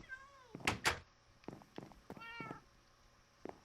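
Cats meowing in the game Minecraft, several short distinct meows spaced across a few seconds, fairly close and clear with quiet gaps between calls.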